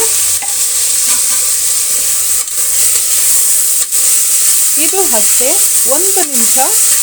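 Chopped tomato fries with onions for veg biryani, producing a loud continuous sizzle with occasional spatula knocks against the pan and a few squeaky scraping strokes toward the end, with no speech.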